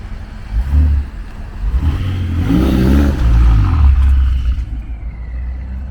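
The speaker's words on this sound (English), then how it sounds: "I'm gonna also have someone record while I'm revving the exhaust on the inside so you guys can hear how the exhaust sounds with the Catless downpipes" Engine revving on a 750 hp BMW X6M fitted with catless downpipes, recorded from inside the car: a loud, rising and falling exhaust roar with a throaty mid-range rumble that peaks mid-clip and settles back to a steady drone, with no talking.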